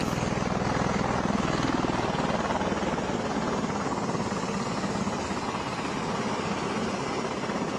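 Helicopters flying over an outdoor presidential rally at Mount Rushmore, a steady, loud rotor drone with rapid chopping and engine roar continuing throughout without a break.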